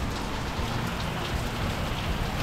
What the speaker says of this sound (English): We got flooding rain.